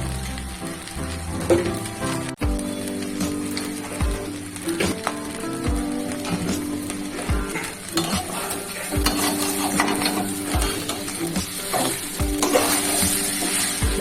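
Fried rice is stirred in a hot pan, a continuous sizzle broken by repeated scraping and clanking of a spatula against the metal at an irregular, busy pace, close and fairly loud.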